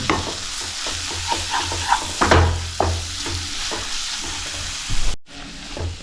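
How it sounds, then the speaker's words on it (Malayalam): Masala mixture stirred in a hot pan, close scraping strokes and knocks of a spoon over a steady sizzle, uneven in rhythm, cutting out abruptly for a moment near the end before resuming. "ഒരു സ്പൂൺ കൂടി ഒന്ന് മിക്സ് ചെയ്തെടുക്കുക"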